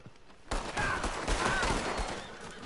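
Revolver shots crack out in a Red Dead Online duel, starting sharply after a brief lull and followed by a loud, continuous flurry of overlapping reports and echoes.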